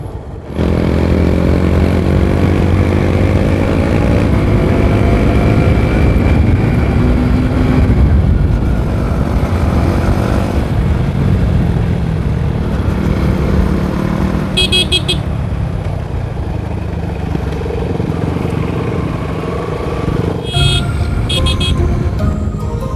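Motorcycle riding along the Khumulung to Jampai road on a birthday group ride, its engine droning loudly and rising and falling in pitch with gear changes, with brief horn toots near the end.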